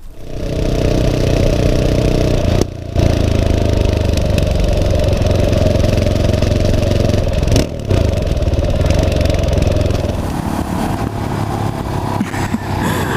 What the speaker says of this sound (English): it's got Arrow exhaust which look absolutely cracking, and they give this great bubble and bang and pop just on the Overrun